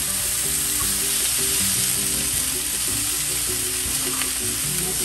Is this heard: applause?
no